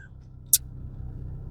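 An old car's engine idles with the air conditioning running, a low, steady hum close by, broken by one brief sharp click near the start.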